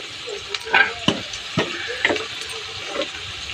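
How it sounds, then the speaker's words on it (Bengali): Potatoes fry in hot oil with turmeric, giving a soft sizzle broken by several distinct stirring and scraping knocks about every half second, heard close with no voices. "লবণ দিয়ে আলুটা ভেজে নেব লাল লাল করে।"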